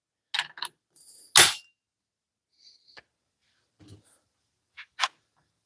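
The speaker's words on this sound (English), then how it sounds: "So let's torque this bad boy down" Torque wrench set to 200 foot-pounds tightening a bolt, giving a few sharp, close mechanical clicks and one louder ratcheting clack, spaced apart with quiet gaps between.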